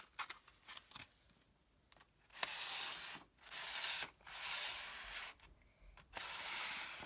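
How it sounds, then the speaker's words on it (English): Hand sanding of a chalk-painted wooden ladder chair gives quiet, rhythmic scratchy strokes in bursts of roughly a second, separated by short pauses, close and soft. "So, we're going to sand it a little."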